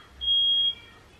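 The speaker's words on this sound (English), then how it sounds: "someone set their fire alarm off in my house." A smoke alarm in a house, set off while lamb shanks are cooking, gives a single piercing high beep lasting about half a second, close and clear.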